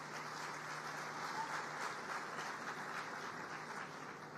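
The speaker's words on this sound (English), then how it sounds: "I would ask for a round of applause to the commissioners to please stand up" A room of people applauds the commissioners at a public event, steady dense clapping at moderate distance sustained throughout without talking.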